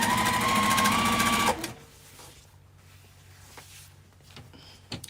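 A sewing machine stitches fabric pieces together in a loud, steady whir for about a second and a half, then stops abruptly, leaving a quiet room with faint handling noises.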